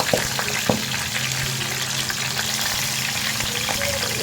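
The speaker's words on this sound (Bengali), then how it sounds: "তেল গরম হয়ে গেছে আমি বড়া গুলা একটা করে দিয়ে দিতেছি" Small fish fritters with Malabar spinach leaves fry in hot oil, giving a steady close sizzle throughout with a few brief clinks of a utensil near the start and no talking.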